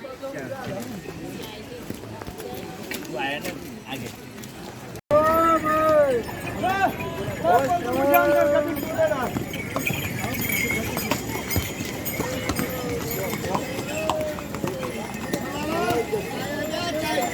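Horses' hooves clip-clop steadily on the steep, muddy Kedarnath mountain trail shared by climbing pilgrims and horses, a close, busy rhythm under ongoing talk and occasional neighs.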